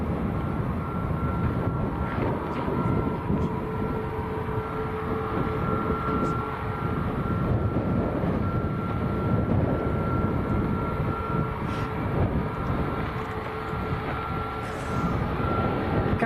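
A Maltese-registered Ryanair Boeing 737 Max airliner bound for Milan rumbles steadily at Lanzarote airport, a broad, continuous roar with a faint tonal whine, heard outdoors amid wind buffeting the microphone.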